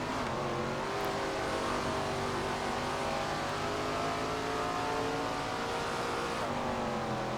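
Super late model race cars circling a speedway track in Florida, a steady loud engine drone with layered harmonics holding throughout, no voices.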